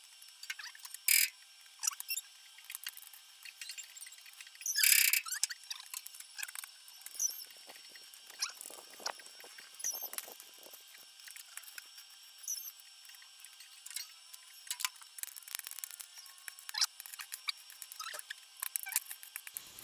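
Welding on the joints of a metal kitchen dish rack: a fairly faint, irregular, high-pitched crackle and spatter that runs throughout, with a few louder pops.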